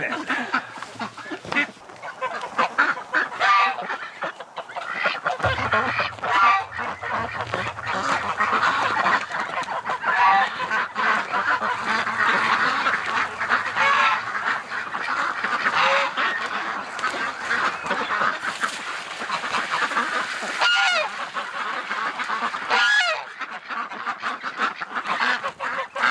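Ducks and geese honk and quack continuously just after a winter feeding, a loud, busy flock close by, with a brief low rumble partway through.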